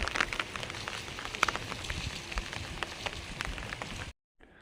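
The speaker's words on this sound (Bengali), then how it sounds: "কি বৃষ্টি হচ্ছে সারা দিন চব্বিশ ঘন্টা বৃষ্টি" Heavy rain falling steadily in a village, a dense, even hiss of drops on surfaces, close and continuous, cutting off abruptly near the end, with no voices.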